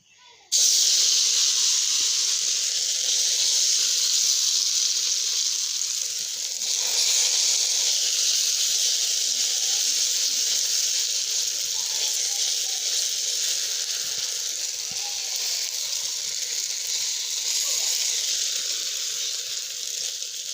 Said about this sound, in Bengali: আমি কয়রাতে তেল আগে থেকে দিয়ে রাখছি তেলটা গরম হয়ে গেছে